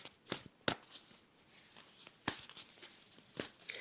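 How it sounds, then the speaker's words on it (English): I Ching cards are shuffled by hand close up, making quiet, irregular papery riffles and flicks in short bursts with soft pauses between them. "I'm going to shuffle for you some more."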